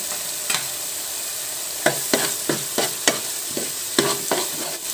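Chicken being stirred and mixed with spices in a pan while frying, a run of distinct scraping and clattering stirs, the first few spaced out and then about a dozen in steady rhythm, close and clear over a soft sizzle.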